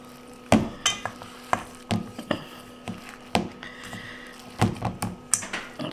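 Thick cake mix dough with M&Ms being folded in a bowl, a steady series of irregular soft thuds and scraping knocks from the spoon against the bowl, close and alone without talk.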